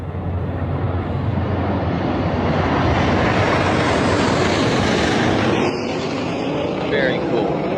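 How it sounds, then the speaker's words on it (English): Aircraft pass overhead in a flyover at a New York Fourth of July celebration, a loud, broad rushing roar that swells and holds for several seconds, with people talking nearby. "Gorgeous flyover with the American flag colors."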